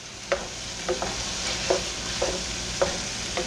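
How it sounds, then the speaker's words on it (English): Spicy beef and cucumber are stirred in a hot skillet, with a steady sizzle underneath and a series of distinct scraping strokes from the spoon at a slow, regular rhythm, close and clear with no talking. "And then we're just going to give it all a nice stir."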